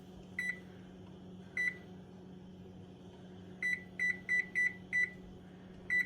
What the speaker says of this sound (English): So I'm going to set the timer for 10 minutes.